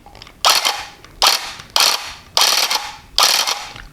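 A handheld carpet tufting gun, just fitted with a new blade, is switched on and fires in five loud, evenly spaced mechanical bursts, each a sharp clattering onset that trails off before the next, close up and with no talking.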